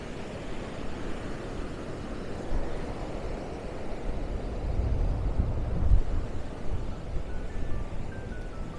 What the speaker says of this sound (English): Quite a windy day.